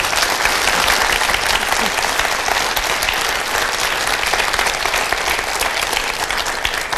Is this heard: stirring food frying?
no